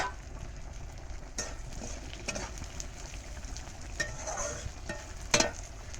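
Bitter gourd fries in a pan over a wood-fired stove, giving a steady low sizzle with occasional scraping stir sounds and clinks throughout.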